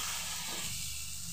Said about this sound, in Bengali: টমেটো একটা নিয়ে নিয়েছিলাম, আর 4 টুকরো করে কেটে দিলাম, আর সেগুলো একসাথে ভেজে নেব।